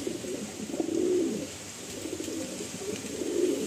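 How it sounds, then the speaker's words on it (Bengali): A female pigeon coos nearby in two low, rolling phrases, one near the start and one at the end, over a faint steady hiss. "এটা হচ্ছে আমার মাদি পায়রা।"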